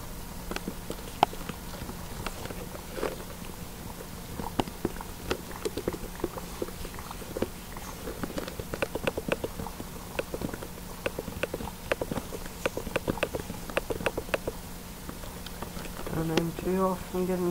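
Horse hooves in a video game, light irregular clip-clopping taps running throughout at moderate distance, with a few louder hits and a brief sound near the end.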